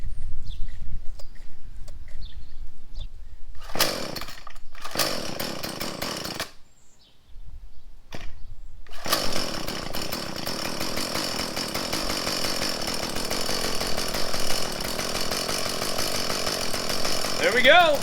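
A Craftsman mini-tiller cultivator engine is pulled and started, with short bursts of small two-stroke sputtering between quieter gaps. It then catches and runs steadily, loud and close, with a rough buzzing drone.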